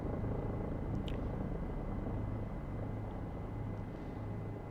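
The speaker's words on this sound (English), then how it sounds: "And this helicopter is just incredible." A Bell 407 helicopter in the X-Plane 11 flight simulator gives a steady low rotor and turbine rumble, even and continuous throughout.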